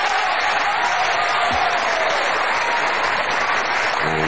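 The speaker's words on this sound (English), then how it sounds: "And there's the appreciative crowd there." A capacity crowd in a packed sports centre in Crawley applauds a 1975 professional wrestling bout, dense continuous clapping filling the hall at a steady loud level throughout.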